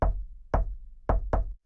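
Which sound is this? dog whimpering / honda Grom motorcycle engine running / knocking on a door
knocking on a door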